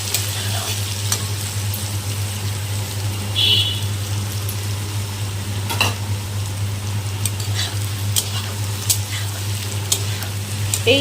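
Potatoes and vegetables frying together in a pan, a steady sizzle over a constant low hum, punctuated by occasional sharp spatula clicks and scrapes at close range, without any talking.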